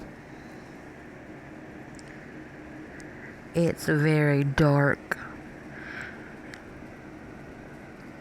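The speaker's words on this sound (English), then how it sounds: "And I'm sorry if you can hear my heater in the background." A room heater's built-in fan runs with a steady, broadband whoosh through the whole stretch, while a voice briefly speaks over it midway.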